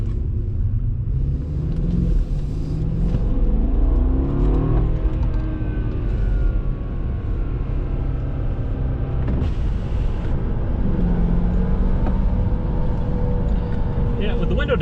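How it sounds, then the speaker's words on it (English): BMW 550i with N63 twin-turbo engine and cold air intakes accelerating on snow tires, a steady loud engine rumble with rising whirring pitch sweeps, heard from inside the car with wind noise. "with the window down, you can definitely hear the turbos"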